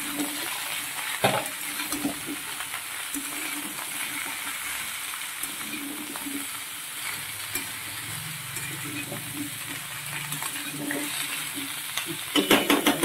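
Mixed vegetables (red potato, carrot, radish, pointed gourd) sizzle in a pan with a soft, steady crackle, broken by occasional stirring scrapes and clinks.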